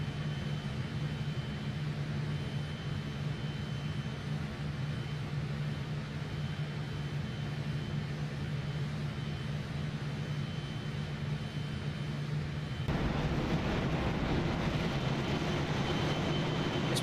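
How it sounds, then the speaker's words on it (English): Engines of a Fokker F28 jetliner in flight in Microsoft Flight Simulator give a continuous broadband roar with a low hum, turning louder and brighter near the end. "This plane sounds so good"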